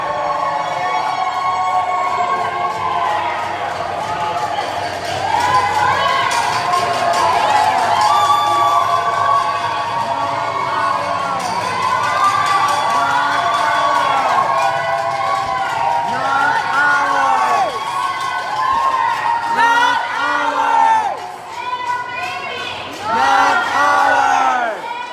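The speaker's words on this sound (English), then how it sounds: "Listen to the cheering." A crowd at a fur ban protest in Toronto cheers and shouts loudly and continuously for over twenty seconds, with rising and falling yells and whoops layered on top of one another.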